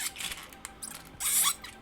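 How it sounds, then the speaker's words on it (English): The hip joints of a Bold Forms Lonewolf toy robot action figure ratchet forward in a few faint, close clicks and scratchy squeaks, with a short louder burst near the end. "And here's the sound of them going forward."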